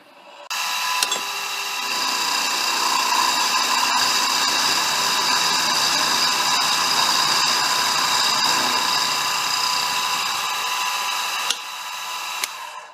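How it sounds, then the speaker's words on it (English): Mini mill cutting a steel key down to height for a Ford Model R axle, a steady, loud whining machining drone running continuously for about ten seconds, then stopping abruptly. "we're ready to mill down the key to the correct height, so I'm doing this over on the mini mill"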